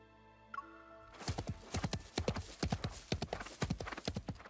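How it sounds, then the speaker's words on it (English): Horse hooves clop in a steady, regular rhythm, starting after a soft tone and continuing close and distinct to the end, in the video game Love & DeepSpace. "Suddenly, hoofbeats echo faintly through the heavy mist behind me."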